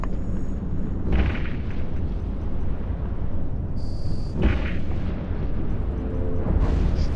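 Ship weapons firing at an enemy in the space game EVE Online, with heavy booming blasts at intervals over a constant low rumble, loud and close, with no talking.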